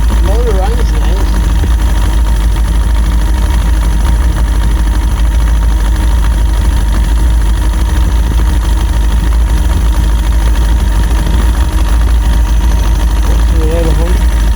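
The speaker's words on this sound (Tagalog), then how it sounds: "Motor run is nice." Fishing boat motor runs with a loud, constant low rumbling drone throughout, with people talking over it at times.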